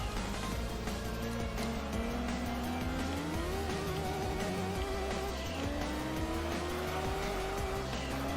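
A Honda Integra races in the Gran Turismo 3 video game, its engine note sweeping up through gear changes over a steady drone while tires squeal through corners, loud and continuous with no talk.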